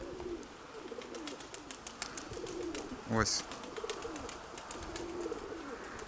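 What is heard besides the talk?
pigeons cooing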